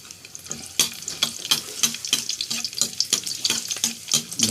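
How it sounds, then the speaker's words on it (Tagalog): Garlic sautéing in a pan for adobo crackles close and loud, with rhythmic scrapes and taps of a utensil stirring it every half second over a bubbling sizzle. "Sangkutsa tayo ng bawang."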